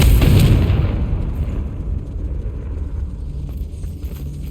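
A Confringo blasting spell from Hogwarts Legacy goes off with a loud, close boom that quickly fades into a rumbling, low-heavy tail lasting several seconds.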